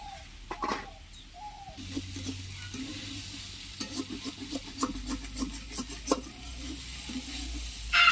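A banana stem fry sizzles steadily in a pan while a spatula scrapes and stirs it in quick, close rasping strokes, with faint bird chirps in the background.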